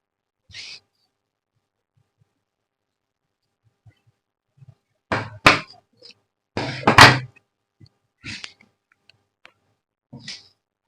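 Scissors cut through blouse fabric in a few sharp, crisp snips, close by and clustered irregularly, separated by long quiet pauses.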